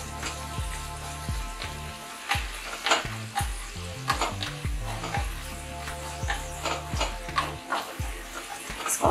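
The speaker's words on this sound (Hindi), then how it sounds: "इसे लगातार 2 मिनट तक ऐसे ही चलाते रहिए ताकि इसका कच्चापन निकल जाए।" A mixed vegetable soup mixture is stirred and sizzles in a pan over a medium-high flame, with repeated close scraping strokes in an uneven rhythm over a constant frying hiss.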